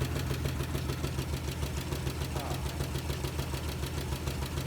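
Worn V8 of a 1968 Chevrolet Impala idling with a dead miss, a steady low rumble with an uneven, lumpy pulse that runs continuously and fairly close throughout.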